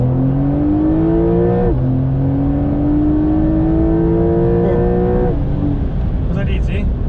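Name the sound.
Porsche 911 Carrera 4 (992) engine revving while driving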